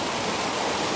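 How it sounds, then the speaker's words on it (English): The headwaters of the Great Sacandaga Lake rush as the whole river funnels through a narrow section over natural bedrock, making a loud, steady broadband roar of churning water with no pauses. "The whole river goes through this little section here."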